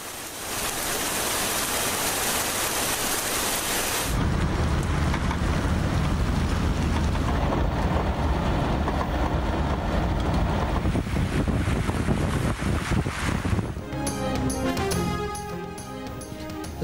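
Heavy torrential morning rain in Islamabad, Rawalpindi and Peshawar, a dense continuous roar of downpour and rushing water that stays loud for most of the stretch before a change in texture near the end.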